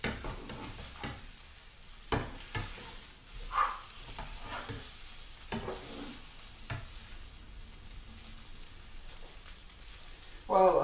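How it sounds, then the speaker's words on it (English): Eggs frying and being stirred in a frying pan, a steady low sizzle with repeated scraping strokes of a utensil against the pan, close by and continuous throughout, with light clicks here and there. "Get all that uncooked egg exposed to the bottom of the frying pan."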